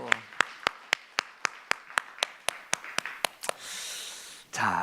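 A church congregation's sharp claps ring out in a fast, even rhythm during a Sunday service, about a dozen and a half in unison, ending with a breathy rush and a voice.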